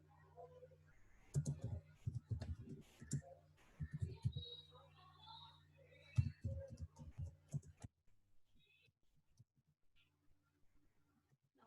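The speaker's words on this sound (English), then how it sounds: "I'm typing the question." Soft, irregular clicking of keys as a question is typed on a computer keyboard, coming in quick bursts with short pauses and a quieter stretch near the end.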